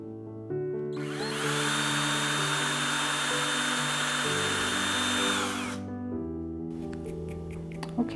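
A handheld power drill whirs steadily for several seconds while boring a hole into a dried sugar gum eucalyptus fruit, then winds down into quiet handling sounds.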